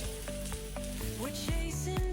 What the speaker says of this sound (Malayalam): വെളിച്ചെണ്ണ ഒഴിച്ച് തേങ്ങ ചെറുകിയത് ഇതിലേക്ക് ഇടുക